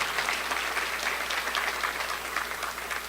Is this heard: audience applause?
yes